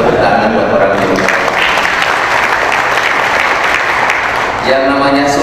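Audience applause at a public address in Indonesia, a dense continuous wash of clapping bookended by a speaking voice at the start and end.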